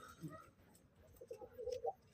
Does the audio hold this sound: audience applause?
no